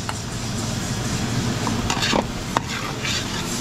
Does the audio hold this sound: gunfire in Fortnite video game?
no